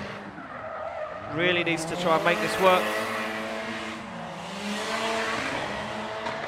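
A Nissan S14 drift car in British Drift Championship Pro-Am qualifying, tires squealing through a skid with the engine revving hard, loud and close while a commentator talks over it.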